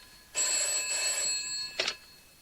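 A telephone rings in a 1975 horror film: one loud, sustained electric bell ring, then a short second burst, against a quiet background.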